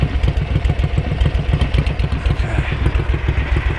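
A classic Ducati motorcycle engine idles close by, a loud, steady chuffing pulse with faint mechanical clatter, and a voice briefly speaks over it.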